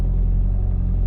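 A car pulling away, its engine giving a steady, loud low rumble with no pauses, heard from close by.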